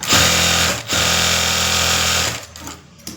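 A sewing machine runs in two steady bursts while stitching the lining of a boutique-style full blouse, its motor whirring loud and close with a short pause between runs, then slowing and stopping near the end.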